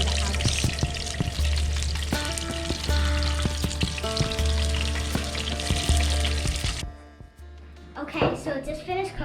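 Fish sizzles and crackles loudly in a frying pan, a steady dense hiss with clinks from a utensil, then cuts out abruptly as cooking ends, leaving only faint background sounds.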